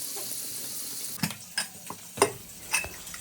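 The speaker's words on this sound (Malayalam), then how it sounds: "ചിക്കൻ ഒന്ന് വറുത്തെടുക്കട്ടെ" Chicken frying in a pan for biryani: a steady soft sizzle, joined by a few sharp clinks and scrapes of a utensil stirring against the pan, fairly close and moderately quiet.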